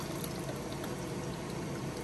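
Juice from a can of already-cooked minced clams is poured out in a steady, continuous splashing stream, close and unbroken for about two seconds with no voices.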